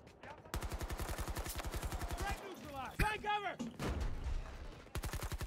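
Rapid automatic gunfire in the Battlefield 2042 video game, bursts of quick rhythmic shots starting and stopping, with a short break filled by explosion-like swells and other effects, then the firing resumes near the end.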